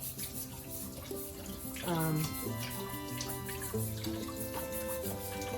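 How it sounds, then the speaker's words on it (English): Hot water runs steadily from a tap over eggs as they are scrubbed with a brush, a continuous wash of splashing flow with a brief surge partway through, under a faint musical background. "So I just grab a brush here, and I'm running hot water over my eggs, and I just start scrubbing them"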